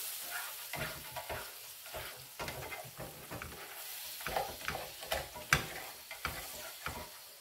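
Pork cooking juices foam and sizzle in a pan, a steady close frying hiss with light crackles and spatters that carry on without a break and no talking over them.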